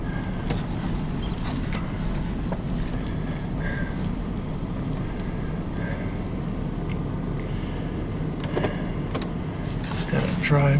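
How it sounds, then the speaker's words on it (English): A 1999 Chevrolet Suburban with transmission trouble drives down a road, giving a steady low engine and road rumble from inside the cabin, with a few faint clicks and a slight rise near the end. "I'm going to see if I can run it into third manually down this road here."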